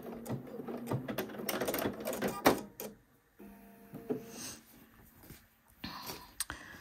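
A sewing machine back stitches a seam in short, stuttering bursts of stitching with brief stops and faint handling clicks, heard close and fairly quiet, with a soft voice briefly in the background.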